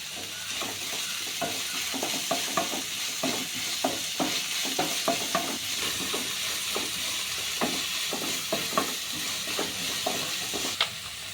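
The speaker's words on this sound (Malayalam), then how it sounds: "എല്ലാം കൂടി ചേർത്തതിന് ശേഷം നന്നായിട്ട് ഒന്ന് വഴറ്റി എടുക്കണം" A spice mixture for a Kerala-style prawn snack is sautéed in a pan: a steady, close sizzle runs throughout while a spoon stirs and scrapes the pan in regular, rhythmic strokes.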